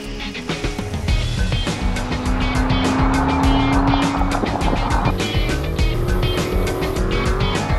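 A Chevrolet Corvette, the $107,000 range-topping version, accelerates hard through bends, its engine note loud and rising while the tires squeal in a long sustained tone, close and continuous throughout.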